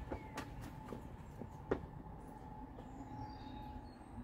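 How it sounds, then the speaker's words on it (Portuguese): A train rolls by at a moderate distance, a continuous low rumble with metallic wheel squeals and sharp clicks of wheels over rail joints, fairly quiet and steady throughout. "olha o trem, olha o trem"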